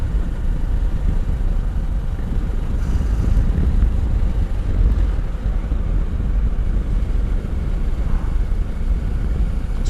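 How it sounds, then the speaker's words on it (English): Steady, loud motorcycle engine and exhaust drone with heavy low rumble and wind buffeting, running continuously for about ten seconds after an exhaust valve adjustment, with no voices. "I can't get over how better this bike sounds since having adjusted that exhaust valve."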